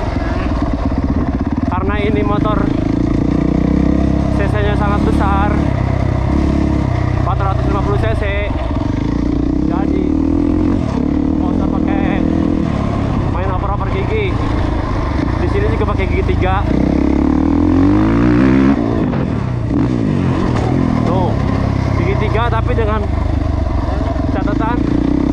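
A 2021 Husqvarna FE450 motocross bike ridden over jumps in third gear on a dirt track, its engine revving and surging in repeated bursts, loud and close throughout, with a voice talking over it.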